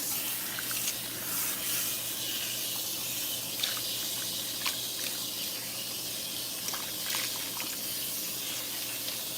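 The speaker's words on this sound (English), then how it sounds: "All right, so I'm rinsing off her conditioner." Water from a shower or tap runs steadily as conditioner is rinsed out of long hair damaged by a Japanese straightener, a continuous close hiss and splash with small shifts as the hair is worked under the stream.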